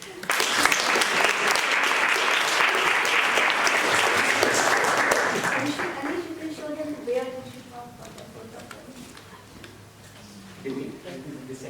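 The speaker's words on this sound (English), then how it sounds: "let's just give them a round of applause" An audience at a graduation party claps loudly for about six seconds, then the applause fades out and is followed by quieter room sounds and a brief burst of noise near the end.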